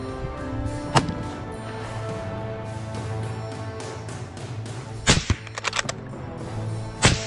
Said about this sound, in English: A burst of gunfire rang out decisively